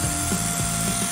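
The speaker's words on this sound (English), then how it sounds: "using a mortar bit to drill the holes and putting in hooks to hold the chicken wire away from the wall" A drill fitted with a mortar bit bores holes into a garden wall for hooks to hold chicken wire, producing a loud, continuous high whine with slight wavering pitch throughout.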